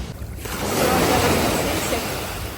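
Sea waves washing in a continuous broad surge, loud and close, rising after a brief quieter start and holding steady with some wind noise.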